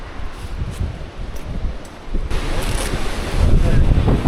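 River water rushing through the Bicaz Gorge, a steady broadband roar with wind buffeting the microphone, growing louder toward the end, with no talk over it.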